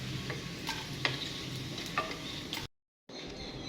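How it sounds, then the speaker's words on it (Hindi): Snacks frying in a pan, with a steady sizzle and scattered light stirring clicks, close and moderately quiet, broken by a brief silent gap before the frying resumes. "ये बहुत अच्छे से फ्राई हो रहे हैं"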